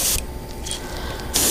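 Airbrush spraying paint onto a crankbait fishing lure, a Pre-Rap Wiggle Wart, with a steady close hiss running nearly throughout, louder bursts at the start and end.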